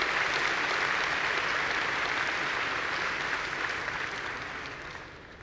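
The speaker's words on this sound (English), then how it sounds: "let's give them a round of applause and thank them for their contributions" A large keynote audience at a Kubernetes conference applauds in a full, sustained wash of clapping that gradually fades out near the end.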